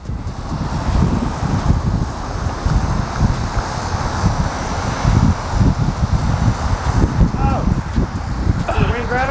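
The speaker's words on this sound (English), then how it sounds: "Did the wind grab it? The wind just pushed it." Steady outdoor wind roars across the microphone in gusty surges throughout, loud and close, with people talking under the blowing noise.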